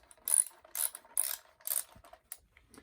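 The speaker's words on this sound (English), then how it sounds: "this wrench key, and that also goes around the bolt, so that allows me to tighten it much harder" Wrench key ratcheting as a bolt is tightened on a Powerslide Next hard skate boot: five or six close, crisp bursts of metallic clicking, each about half a second long, with short pauses between and no talk.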